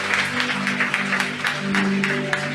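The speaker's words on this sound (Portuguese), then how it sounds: "Você pode aplaudir o Senhor por essas vidas" A church congregation applauds during a baptism service, steady dense clapping with a sustained low musical tone underneath.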